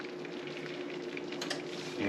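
Peas and asparagus hitting hot bacon grease in a pan give a steady, close, loud sizzle with bubbling crackle throughout, swelling slightly at the end, with no talking.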